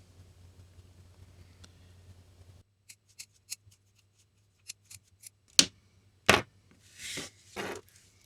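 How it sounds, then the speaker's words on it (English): Excess wire is trimmed at the back of a laptop battery connector: several small sharp snips, then a few louder crisp cuts and rustles, close and alone. "The excess wire is then trimmed at the back of the connector."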